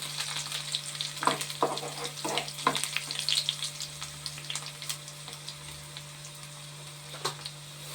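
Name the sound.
chillies frying in a pan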